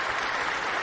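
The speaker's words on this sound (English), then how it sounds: "I guess we'll give him a round of applause" A wrestling crowd at Survivor Series War Games applauds in a brief, even wash of clapping and cheering.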